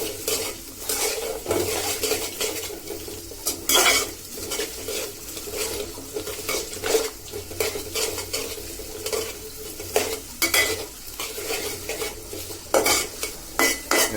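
Onion, garlic, ginger and bay leaves fry in hot oil with a steady close sizzle, while a utensil scrapes and stirs against the pan in irregular knocks and clatters throughout.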